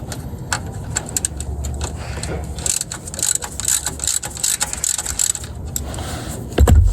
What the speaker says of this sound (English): T45 torque bit to loosen the sump plug.